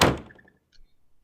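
A single heavy wooden door thunks shut in a dark spider-infested game room, one sharp close impact followed by a short fading ring and a faint click.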